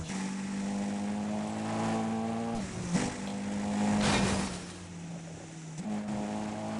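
Need for Speed World car racing game: a steady, loud engine drone with rising pitch, broken by brief drops as gears shift, plus a swelling rush of tire and road noise midway.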